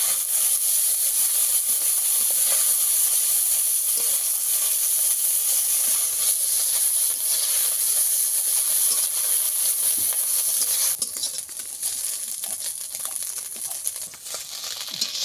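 Small pond fish frying in oil give a steady, loud hiss, with faint crackles in it, that eases slightly and becomes softer and rougher near the end; no talking.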